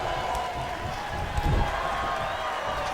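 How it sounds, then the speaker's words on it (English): Crowd noise in a small arena from the WWE 2K19 wrestling game: a steady, roomy murmur of cheering with a brief swell in the middle, running without pause. "I appreciate that the crowd noise actually sounds like a smaller room"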